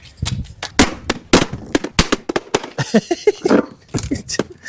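A plastic tackle box dropped hard and cracking apart, a burst of sharp loud snaps and clattering impacts close by, with a few exclamations mixed in.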